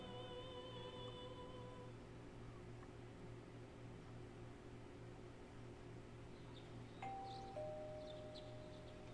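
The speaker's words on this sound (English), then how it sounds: "This car has a doorbell?" In the video game Persona 4 Golden, a doorbell chimes a two-note ding-dong over a steady hum of game background music, followed later by softer electronic tones.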